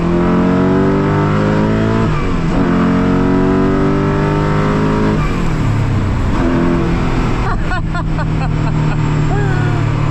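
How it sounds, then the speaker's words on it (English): A Koenigsegg CCX at full throttle on the Autobahn, its engine loud and near, pitch climbing through repeated gear shifts, with a voice briefly heard over the roar. "full throttle in a CCX on the Autobahn."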